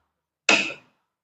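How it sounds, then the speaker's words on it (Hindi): A motor starter contactor snaps shut as its push button is pressed, one crisp, close mechanical click that fades quickly into silence. "खटखट की आवाज आ रही है कि नहीं आ रही है"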